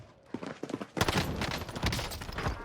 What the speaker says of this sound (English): Taking heavy fire here